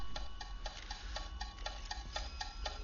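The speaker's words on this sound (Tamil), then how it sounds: "கடிகாரம் ஓடவே இல்லை, சவுண்ட் மட்டும் கேக்குது." Steady, evenly spaced clock ticks, about three per second, crisp and close against a faint low hum.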